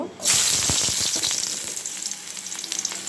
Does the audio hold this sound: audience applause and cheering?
no